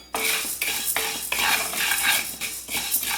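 Urad dal roasting in a pan, stirred with a metal utensil: repeated scraping strokes and clinks against the pan in a steady rhythm, close and loud, with no talking.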